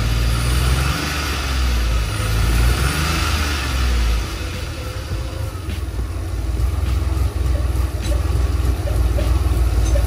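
DeLorean DMC-12 with upgraded mechanical fuel injection idles steadily up close, a loud low rumble with slight unevenness and a brief rise in revs.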